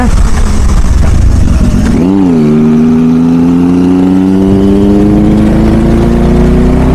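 A motorcycle engine drones loud and close, then its pitch dips and climbs steadily in a rising whine as the bike moves past, without a break.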